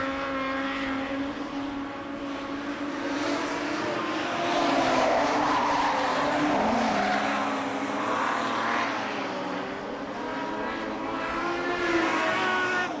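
Modified production race cars circling Maryborough Speedway in a racing series, several engines droning together at a distance with shifting pitch as the pack passes, a steady roar throughout, no voices heard.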